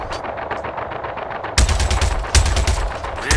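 Gunfire hitting ship shields in the space game Star Citizen: a steady rattle of rapid shots, then two heavy, close impact bursts land loud and dense, with no speech over it.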